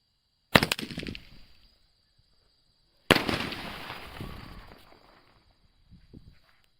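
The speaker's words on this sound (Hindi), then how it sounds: "लगाते हैं भाई आग कलर्स वाले स्काई शॉट के अंदर आग" A colored sky shot firecracker set off for Diwali: two loud, sharp bursts a few seconds apart, each trailing into crackling that fades, the second longer and fuller.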